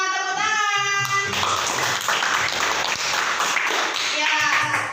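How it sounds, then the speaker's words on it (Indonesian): A brief voice gives way to a burst of classroom clapping, many quick claps for several seconds, with a voice resuming at the end. "Tepuk tangan."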